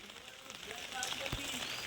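The first monsoon rain of the season falls steadily, a continuous soft hiss with faint voices and other background sounds mixed in.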